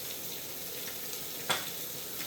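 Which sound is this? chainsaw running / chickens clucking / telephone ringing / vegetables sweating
vegetables sweating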